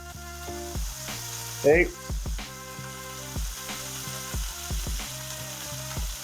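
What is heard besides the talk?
burger patties sizzling while cooking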